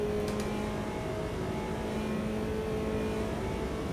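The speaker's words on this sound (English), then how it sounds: "Hey look, there's cars over there going vroom vroom" Race cars in Automobilista 2 with a McLaren GT4 at Spielberg, a steady engine drone with faint whining tones from cars running at a distance, continuous and without talk.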